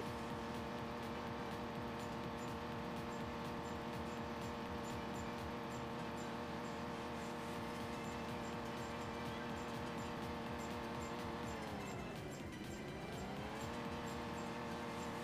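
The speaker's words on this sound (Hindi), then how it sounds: "तो हम गाड़ी भगा कर लगी जा रहे हैं, बहुत तेज गाड़ी जा रही है हमारी" A car races fast through a gangster-city action video game, its engine a steady, loud synthetic drone with the pitch dipping and rising again near the end as it slows and speeds up.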